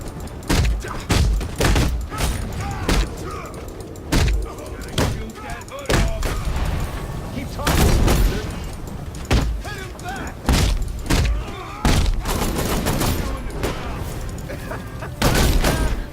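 Rapid bursts of gunfire and impacts in the Batman Arkham Knight video game, loud and close, with repeated sharp cracks and clustered volleys over a dense backdrop, a voice talking intermittently underneath.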